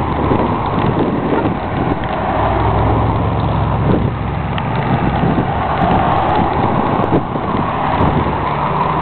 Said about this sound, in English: Got 150 to 180 cars here cruising through.